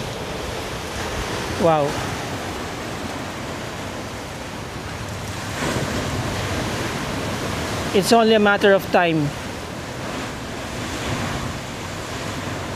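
Sea waves surge and wash steadily against an eroded shoreline in Zambales, a continuous broad roar with wind buffeting the microphone, while a few people speak briefly over it.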